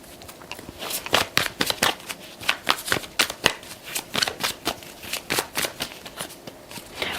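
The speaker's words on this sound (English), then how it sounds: "let's pull some tarot." Tarot cards are shuffled close by in a rapid series of crisp riffling bursts and soft slaps, repeating steadily for several seconds with no speech.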